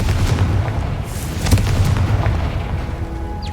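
A fire spell blast in Hogwarts Legacy erupts as a deep booming rumble with scattered crackling bursts, heavy low thumps rolling on with game ambience underneath.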